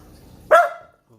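A dog barks once, loud and close, in a short sharp woof while food is set out, followed by near silence.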